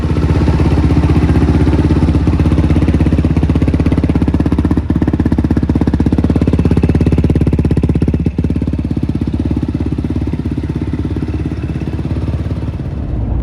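A Yamaha YFZ 450R four-wheeler engine runs steadily and loudly near an indoor race shop, holding a dense continuous drone for the whole stretch with two brief dips before easing slightly toward the end.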